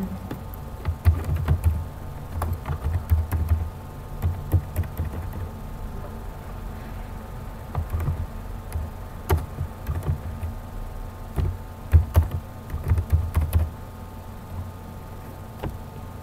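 Irregular bursts of keystrokes on a computer keyboard while entering data into an HTML table, clicks clustered in runs with brief pauses, close and moderately loud with a low steady room hum beneath.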